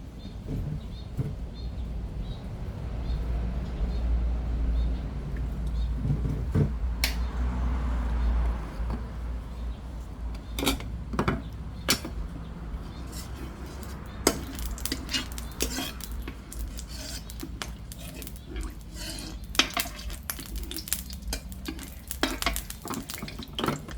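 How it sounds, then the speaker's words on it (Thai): In a home kitchen, a wok of oil heats for spicy stir-fried frog, with metal utensils clinking and scraping against the pan and a soft sizzle underneath, in irregular bursts. "ก็เอาน้ำมันใส่กระทะนะคะ"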